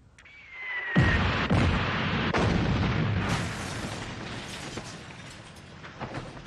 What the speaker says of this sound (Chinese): 大炮了！